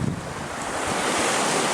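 Surf rolls and breaks on a beach at Freycinet in a broad steady rush, with wind buffeting the microphone throughout.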